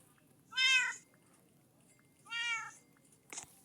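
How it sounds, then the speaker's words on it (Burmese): Kittens waiting to be fed give two clear, close meows about two seconds apart, followed by a brief soft sound near the end, against a quiet background. "ကဲကြောင်လေးတို့အစာကျွေးအောင်မယ်"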